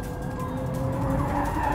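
A Hyundai RN22e, a rear-biased dual-motor electric test car, understeers on a race track, its tires scrubbing and skidding in a steady, close hiss for a couple of seconds.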